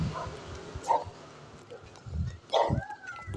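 Out on a street walk, a dog lets out a few short yips and barks, somewhat distant and soft against low outdoor noise.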